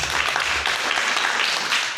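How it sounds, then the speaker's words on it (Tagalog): A church congregation at a Sunday worship service applauds, giving a loud, dense, steady wash of many hands clapping together with no clear individual beats. "Bigyan ako natin isang malakas na palakpak ang ating Diyos."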